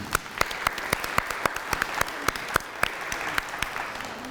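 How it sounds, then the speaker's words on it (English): Warm applause from an audience at a school alumni event honouring an anonymous sponsor, with a loud, steady clap from one nearby person striking at an even beat above a softer spread of clapping from the rest of the room. "we have a warm round of applause for that person"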